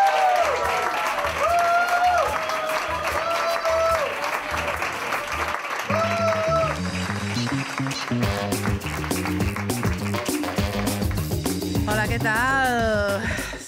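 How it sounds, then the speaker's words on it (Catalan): Audience applause at a Catalan stand-up comedy monologue contest, sustained clapping from a crowd that runs steadily under loud music with singing and a synth melody throughout. "Un fort aplaudiment per la Torrons!"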